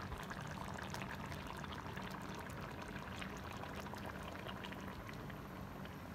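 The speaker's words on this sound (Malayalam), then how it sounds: "ഞാൻ ഈ അരച്ചുവെച്ച തൈര് ഒഴിച്ചു ഒന്ന് മിക്സ് ചെയ്തു" Ground curd pours into a bottle gourd and coconut curry simmering on a low flame, a steady, soft liquid pour and bubbling close by.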